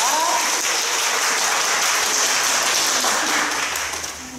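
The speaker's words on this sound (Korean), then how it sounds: "뜨겁게 박수를 부탁드리겠습니다" An audience at a lecture applauds steadily with dense, continuous clapping that holds for several seconds, then begins to fade at the end.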